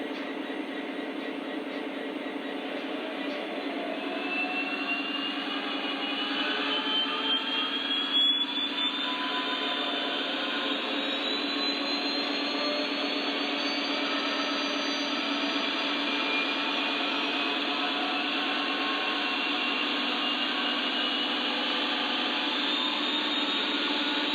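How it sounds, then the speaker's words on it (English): A continuous high mechanical whine of a Lionel Legacy Union Pacific model diesel locomotive's sound system, steady and rising slightly in pitch as if revving, with no pauses. "show you what the RPM rev up and rev down sounds this locomotive can produce"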